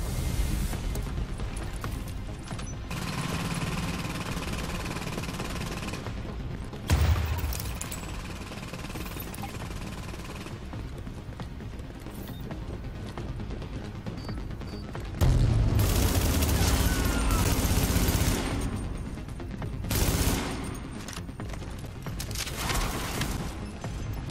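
Rapid bursts of gunfire and heavy booms from the video game Tom Clancy's The Division at a power plant, loud and continuous, with sharper blasts surging in at intervals.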